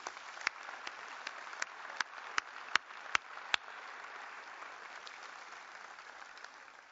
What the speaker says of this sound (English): So a round of applause for all the families and friends.